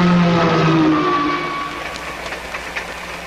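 A passenger train running on the rails, a broad steady rumble with a whistle-like tone that glides downward early on, then fades slightly while the continuous rolling noise carries on alone.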